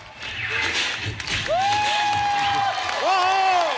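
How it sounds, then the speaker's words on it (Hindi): A studio audience at a comedy talk show claps and cheers to welcome actors Kartik Aaryan and Bhumi Pednekar, a short, loud burst of applause under music and whoops. "जोरदार तालियों से स्वागत कीजिए कार्तिक आर्यन एंड भूमि पेडनेकर"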